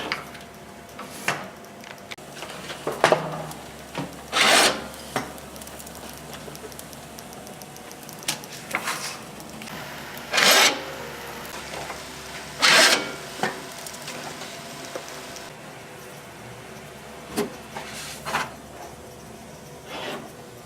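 A ColorFlare CF750 laminating machine feeds sheets and cuts them automatically, giving irregular rasping, scraping bursts and soft thuds over a steady low mechanical hum, close by with no talking.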